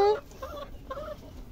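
Backyard hens on a small family farm at feeding time give a few short clucks, fairly close and moderately loud, with faint background noise.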